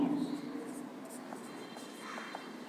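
Chalk or marker scraping on a classroom board in a Bengali-language finance class, a steady soft scratching stream with a few brief taps, faint and close, with a low murmur in the room but no clear talk.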